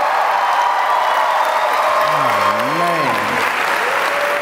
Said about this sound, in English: can I get one more round of applause for all the paramedics,